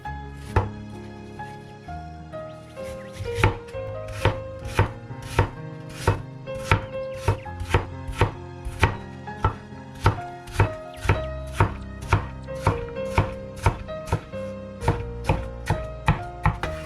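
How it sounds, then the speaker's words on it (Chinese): A knife chops a peeled apple on a board, first into slices, then strips and cubes, with a long, steady series of crisp, evenly spaced strikes. "拿一个苹果，去皮，切成片儿，再改刀切成丝，最后切成块儿"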